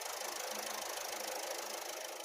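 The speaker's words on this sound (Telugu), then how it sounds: "ఇంజన్ చాలా అంటే చాలా స్మూత్ గా అయితే ఉంది." A Ford EcoSport Titanium Plus diesel engine idles close by, a steady, even hum with a faint mechanical clatter running unbroken throughout, with no voices over it.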